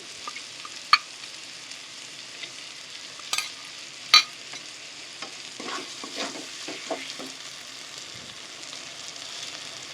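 Tadka masala for dhaba-style chicken tadka sizzles gently in a pan as it is fried and stirred, with scattered sharp spoon scrapes and taps over a soft, continuous frying hiss.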